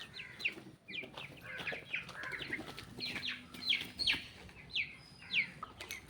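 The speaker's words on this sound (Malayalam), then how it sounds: "നമുക്ക് അടുത്ത കോഴിക്കുട്ടന്മാരെ കാണിച്ചു തരാൻ പോവാം" Chickens cluck and chirp in a repeated run of short, bright calls, fairly close, with some faint wing flapping and no talk.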